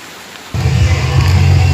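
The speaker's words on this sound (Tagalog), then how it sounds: "mas maririnig ko pa yung malakas na ulan" Heavy rain pours down outside a small chapel during a Christmas church gathering, a loud broadband roaring wash that swells in suddenly after a quiet moment and holds steady to the end.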